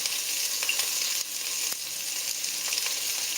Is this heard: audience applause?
no